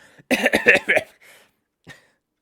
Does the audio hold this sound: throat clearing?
yes